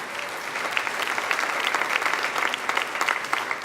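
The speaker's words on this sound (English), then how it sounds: "Please give those guys a large round of applause." Sustained audience applause fills a hall during an awards show, a steady dense wash of clapping at moderate loudness with no voices over it.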